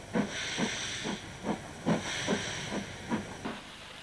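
A steam locomotive on the Wirral puffs and hisses nearby, a run of about nine rhythmic steam chuffs over a constant airy hiss, with no voices.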